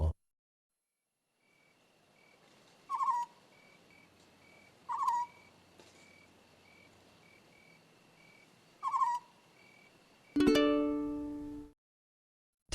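Owl hooting in three separate soft calls spaced a few seconds apart over a quiet background with faint insect-like hiss, followed near the end by a sharp, louder tonal sound.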